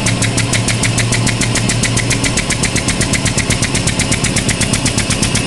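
A high-frequency oscillatory ventilator's piston runs fast at roughly 9 to 10 hertz, giving a loud, steady, rapid mechanical thumping buzz that continues without a break throughout, with no talking.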